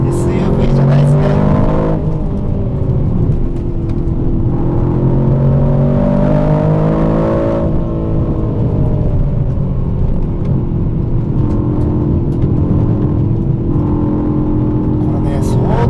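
Aston Martin DBX707 SUV, a 2025 super sport model, pushed hard into corners on Hakone mountain roads, its engine note climbing and falling steadily under continuous in-cabin talk.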